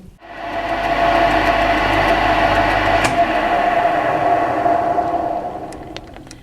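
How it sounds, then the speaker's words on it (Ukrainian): A thread being cut on a metal part, heard as a loud, steady machine drone that spins up quickly, holds for several seconds and then winds down, with no voices. "Я от отако вточив і зараз ріжу різьбу з цієї сторони."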